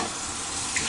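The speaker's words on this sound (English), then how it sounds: "I gotta rinse my tea pitcher out," Tap water runs steadily while a tea pitcher is rinsed, a brief close, even rushing hiss with no talking.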